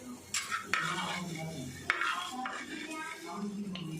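A metal spoon scrapes and clinks against a pan while roasted fenugreek seeds and asafoetida are scooped out for amla pickle, with several sharp taps on the rim and a faint sizzle underneath.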